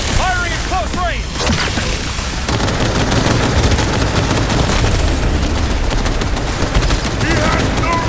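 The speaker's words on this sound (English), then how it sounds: "Firing at close range!" Gunfire in the video game Cyberpunk 2077, dense rapid automatic bursts with heavy booming shots, loud and continuous, with shouting voices over the opening seconds.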